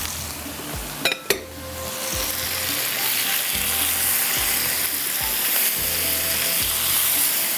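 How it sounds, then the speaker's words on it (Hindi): Half a kilo of prawns sizzles loudly in a hot pan with a continuous frying hiss, a couple of sharp metallic clinks near the start and repeated soft stirring scrapes. "बस आपने इसको ज़रा सा इस तरह से भूनना है।"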